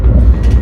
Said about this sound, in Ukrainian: Такий от потяг, це потяг DSB називається.